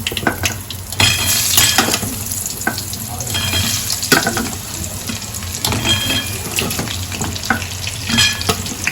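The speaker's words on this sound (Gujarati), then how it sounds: "તેલ રાઈ તતડી ગઈ છે હવે આપણે ઢીંચા નાખી દઈશું અંદર" Ridge gourd (tinda) pieces tipped into hot oil where mustard seeds are crackling, giving a steady loud sizzle with stirring clatter and sharp spattering pops throughout.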